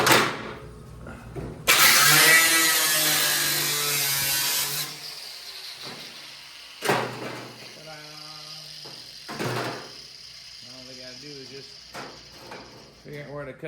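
A small cutoff wheel bites into rusty fender metal with a loud, harsh high-pitched shriek lasting a few seconds, then winds down, followed by short quieter bursts and a voice speaking.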